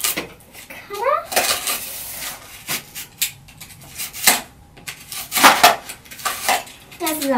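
Scissors or a blade cut through cardboard for a toy house in a series of short, crisp scraping and snipping bursts, close and fairly loud, with brief gaps and faint voices in the background.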